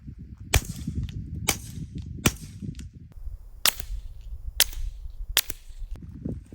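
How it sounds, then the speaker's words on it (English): Six suppressed gunshots from supersonic .22 ammunition, each a sharp, fairly quiet crack with a snappy edge, spaced about a second apart over low background rumble outdoors. "Let's do some supersonic 22."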